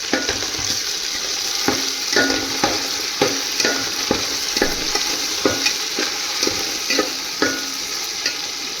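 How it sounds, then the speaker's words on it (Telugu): Ingredients fry in a pan for mutton biryani, a constant sizzling hiss punctuated by a regular rhythm of spatula taps and scrapes against the pan. "కొంచెం వేగనిద్దాం. చూడండి బాగా వేగిందన్నమాట."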